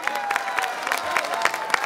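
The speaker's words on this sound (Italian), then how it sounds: "Facciamo un altro applauso." An audience applauds after a concert in Jesolo, steady dense clapping with a faint sustained tone underneath.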